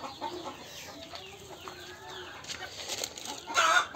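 Hens and a single rooster kept in a semi-enclosed bamboo cage cluck and call intermittently at moderate distance, with some wing flutter and a louder burst near the end.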